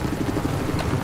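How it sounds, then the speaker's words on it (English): An enemy helicopter in the video game Battlefield 4 gives a steady, loud rotor drone that fills the short stretch alone amid dense battlefield noise. "I got eyes on an enemy chopper."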